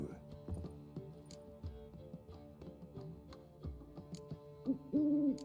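An owl hoots in a Witcher video game scene, soft repeated hoots heard amid background music and other game sounds, with a brief louder burst near the end.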